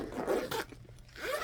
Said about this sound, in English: then a zip pocket behind that